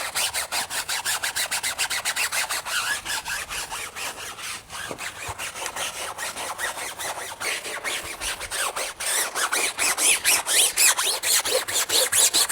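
A brush scrubs foam hard across a car's paint, making a fast, steady back-and-forth rasping stroke that repeats rhythmically and close up, with no talk over it.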